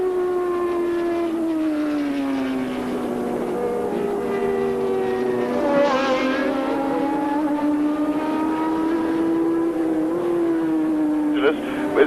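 Formula One cars from the 1982 Austrian Grand Prix scream past with rising and falling engine whines, their high-pitched tones sweeping up and down as several cars pass, under steady race commentary.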